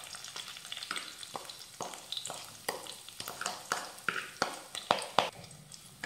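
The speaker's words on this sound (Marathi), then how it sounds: "आता हे वाटण मिनिटभरासाठी परतून घेऊयात।" A spice paste sizzles in a pan with cumin, asafoetida and curry leaves as a spatula stirs it, giving quiet steady frying broken by sharp scraping strokes that grow more frequent toward the end.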